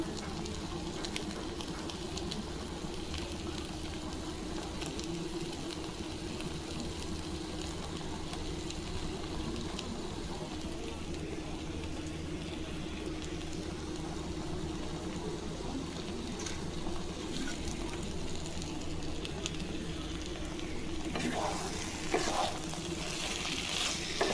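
Food fries in a pan with coriander leaves as it is stirred, giving a quiet, steady sizzle with faint scraping from the stirring and a few louder clinks near the end.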